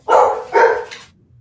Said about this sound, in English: Even the dogs are enjoying this meditation.